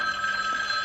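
A telephone rings in the 1978 horror film Halloween, a single brief, steady electric bell trill heard alone at moderate level.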